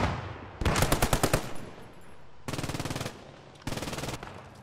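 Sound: machine gun fire in video game Post Scriptum

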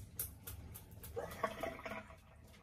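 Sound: rinsing a shaving bowl with cold water

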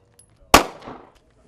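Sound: handgun shots at a police shooting range

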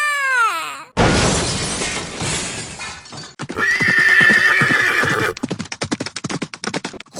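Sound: horse neighing and galloping in a cartoon

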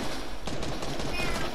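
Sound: gunfire in the video game Fortnite

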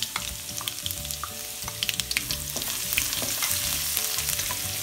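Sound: garlic sautéing in pan with cumin and mustard seeds

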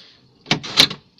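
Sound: Citroen BX central locking operating as door is locked

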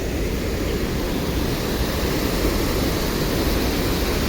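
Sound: waterfall rushing water

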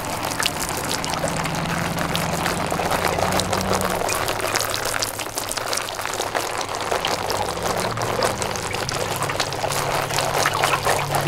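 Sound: watering seedlings in seed cells

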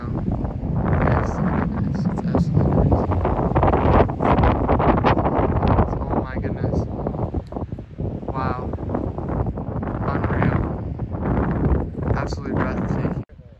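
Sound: wind on a mountain top

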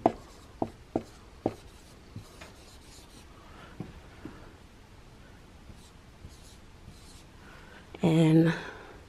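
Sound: writing by hand

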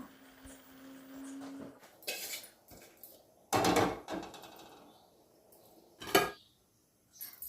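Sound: pot placed on stove

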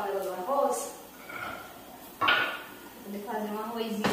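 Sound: rice pot being placed while cooking

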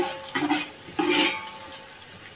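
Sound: onions frying in hot oil

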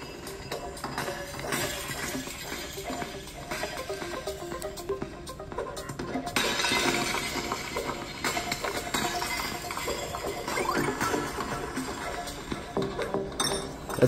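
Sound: glass shattering in the video game Smash Hit

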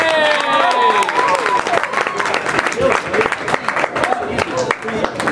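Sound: comedy club audience applause

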